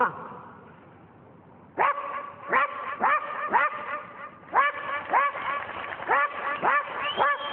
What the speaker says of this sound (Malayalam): ആദ്യമായി ഒരു പാവപ്പെട്ടവന്റെ വീട്ടിലെ പട്ടി.